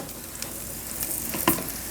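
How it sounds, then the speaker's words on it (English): Air-fried chicken wings, just out and crispy brown, sizzle and crackle in a steady close hiss with one brief sharper pop, no voices. "Not sure if you could hear that sizzle,"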